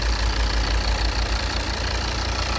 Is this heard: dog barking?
no